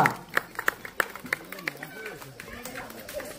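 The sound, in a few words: audience applause at a village festival prize ceremony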